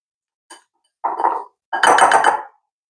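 Cooked Japanese rice being mixed with sushi seasoning in a bowl, a brief tap followed by two scraping, clinking bursts of a utensil against the dish, close and clear with no talk.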